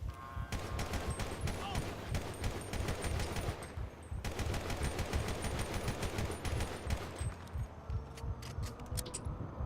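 Rapid single-fire gunshots from a weapon in the GTA V LSPDFR police mod, a steady run of sharp cracks across the whole stretch, loud and close, with a short pause near the middle.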